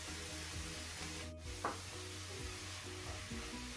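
Garlic sizzling in hot oil with green chillies while leafy greens such as data shak or lau shak are stirred, a steady soft frying hiss broken by faint scraping stirs.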